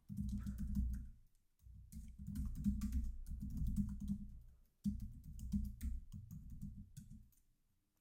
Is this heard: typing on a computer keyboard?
yes